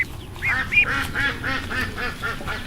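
A young Indian runner duck quacks in a quick, evenly spaced series of about eight nasal calls, close and clear over a quiet background.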